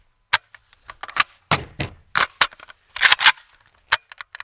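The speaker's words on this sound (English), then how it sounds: "Pick your gun up, seat your mag, rack it." A handgun magazine seated and the slide racked for dry fire practice, a series of sharp metallic clicks and clacks in quick, uneven bursts, close and alone.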